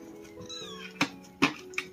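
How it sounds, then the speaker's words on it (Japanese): A kitten rescued from a drain meows close by, several short, high, plaintive cries, with two or three sharper calls in quick succession near the end. "はい、子猫ちゃん、"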